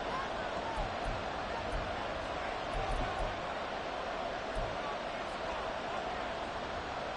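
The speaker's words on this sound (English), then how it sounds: "This crowd turning up the decibel level" A football stadium crowd at a Washington game roars steadily on third and long, a dense, loud wash of noise that holds at full volume throughout.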